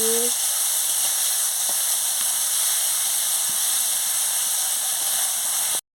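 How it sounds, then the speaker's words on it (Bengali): Bitter gourd frying in hot oil, a loud, steady, close hiss of sizzling that holds evenly for several seconds before cutting off abruptly, with no voices. "তেল গরম হয়ে গেছে আমি উচ্ছেটা দিয়ে দিচ্ছি"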